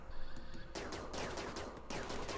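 Gunfire in the colony game Rimworld, a quick crackling burst of rapid shots followed by more clustered volleys, faint and distant-sounding, with no voices over it.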